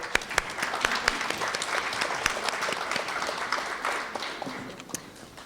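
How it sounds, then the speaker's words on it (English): Audience applause for finalists in the 11 to 12 age category at a speech competition final, a steady wash of many hands clapping at moderate distance, sustained evenly throughout with a few sharper claps near the front. "Let's all come together to applaud our finalists in the 11 to 12 age category."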